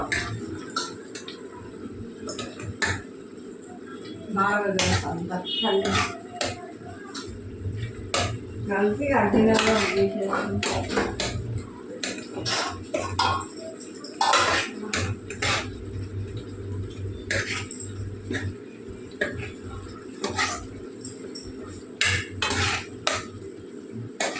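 A spoon clinks and scrapes against a metal pot while tomato curry with sesame powder is stirred, giving a run of sharp, irregular knocks over a low background hum, with brief faint voices in places.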